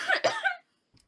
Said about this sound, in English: That was an adorable cough.